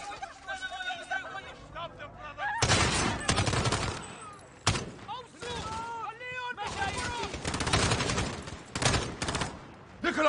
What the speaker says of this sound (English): The gunshots, of course.